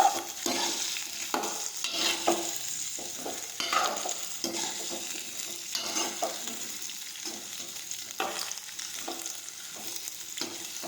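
Spiny gourd (kantola) frying in a pan with asafoetida, with a steady sizzle and repeated scraping strokes from stirring all the way through and no voices.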